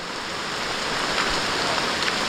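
Light drizzling rain falls in a steady, even hiss that holds at one level throughout, close by and with no voices or other sounds over it.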